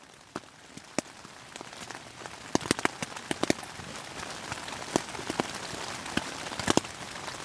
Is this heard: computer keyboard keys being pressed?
no